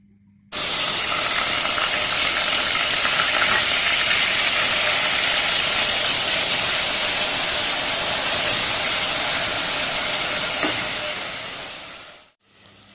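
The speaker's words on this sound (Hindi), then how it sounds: "ऑयल हमारा अच्छी तरह गर्म हो गया। अभी हम इसमें ऐड करेंगे प्याज" Onions dropped into hot oil for chicken samosa filling set off a sudden loud, steady sizzle that hisses evenly for about twelve seconds before dying away abruptly.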